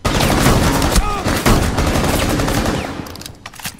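Rapid gunfire from the video game Rainbow Six Siege, loud bursts of automatic shots and single cracks packed together for most of the stretch, thinning out toward the end.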